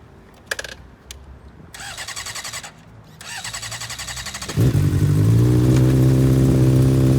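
A used 2015 Honda CBR600RR super sport motorcycle engine, starting with a few short bursts before settling into a loud, steady high revving drone at close range, with no talking.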